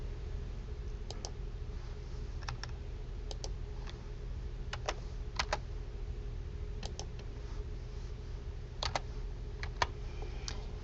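Typing on a computer keyboard comes through as sparse clusters of quick key clicks, fairly faint over a steady low hum, with short pauses between bursts.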